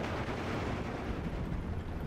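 German IG-33 infantry gun firing in the Steel Division 2 war game, a dense, rumbling blast with sustained booming roar that fills the moment at close range.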